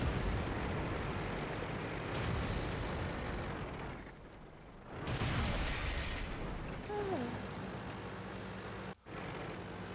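75mm tank cannon fire in the World of Tanks video game, heavy booming blasts that merge into a dense, rumbling battle din over ten seconds, with a brief dropout near the end.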